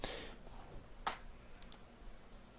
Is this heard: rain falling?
no